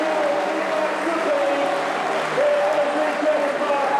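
Rugby league fans in a stadium applaud steadily as the Hull KR Robins take to the field against Salford, a dense continuous wash of distant clapping under a commentator's voice.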